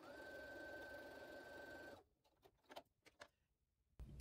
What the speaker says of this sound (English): So I'm just going to sew that.